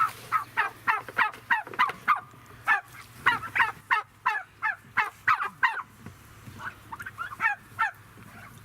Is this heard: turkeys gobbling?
yes